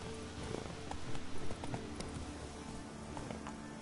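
In The Witcher video game, a horse's hooves clop rapidly in a quick galloping rhythm, faint and in the middle distance, with a few louder thuds near the start.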